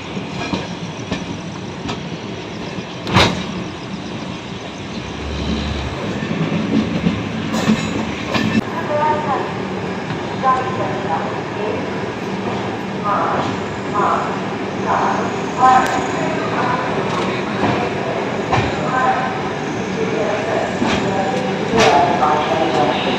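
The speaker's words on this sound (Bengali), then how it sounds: "এখন আমাদের ট্রেন কাশী স্টেশনে এসে দাঁড়িয়েছে" Passenger train at Kashi station near Varanasi, a steady rumble of the carriage with clanks and metallic knocks, and people talking faintly in the background.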